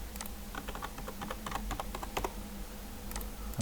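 Someone types a password on a computer keyboard, a quick run of light, close key clicks over a low steady hum, with no talking.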